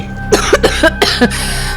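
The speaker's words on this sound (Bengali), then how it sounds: "কাশিটা পুরোপুরি নির্মূল হতে আরো কটা দিন সময় লাগবে" A man with a lingering illness coughs in a string of sharp bursts, four or five harsh hacks close to the listener, loud and isolated with no talking.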